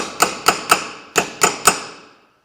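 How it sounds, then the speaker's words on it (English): A small chisel is struck with a hammer to fold in a rusted metal wall on an International Farmall Super H tractor under restoration, giving six sharp metallic blows in two groups of three, close and loud, with ringing decays. "Got a little chisel here. I'm just going to see if I can fold in what's left of the wall."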